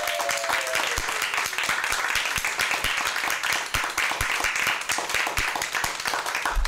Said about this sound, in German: An dieser Stelle einen ganz, ganz großen Applaus